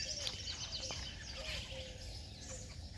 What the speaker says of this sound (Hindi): झगड़ा भी हो रहा है मैना में